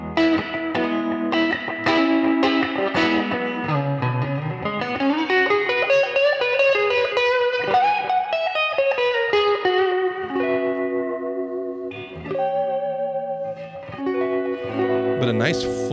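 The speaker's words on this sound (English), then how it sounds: "little bit of a Boss Wazakraft delay on there and a Boss reverb as well. Awesome surfy sound." A Tagima TW-61 electric guitar on its neck pickup plays a clean, surf-style melodic line through Boss delay and reverb, with sliding notes and echoing chords ringing out alone.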